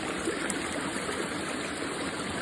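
Water streaming steadily through a gold panning sample of alluvial deposits, a continuous close trickling flow with no voices.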